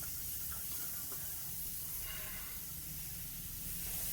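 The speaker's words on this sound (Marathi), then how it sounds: "तवा आपला गरम झाला की कांदा टाकून घ्यायचा आहे" Sliced onion roasts on a hot tava griddle, giving a faint, even hiss of sizzling with a few small crackles, quiet and steady, with no voices.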